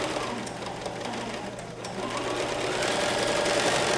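A sewing machine stitches quilted placemats, running in a steady, continuous mechanical hum with a rapid needle rhythm that grows slightly louder toward the end.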